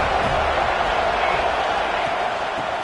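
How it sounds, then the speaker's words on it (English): A dense stadium crowd roars steadily at a Florida versus FSU college football game, with the loud wash of noise sustained throughout and a broadcaster's voice faintly mixed in. "This crowd ready to make its presence known."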